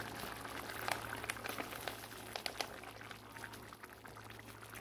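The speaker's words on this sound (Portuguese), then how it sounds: "Vou acrescentar também esse molho de tomate aqui" Thick tomato sauce pours and splatters into a pot, with soft bubbling and sizzling underneath, close and moderately quiet, no talking.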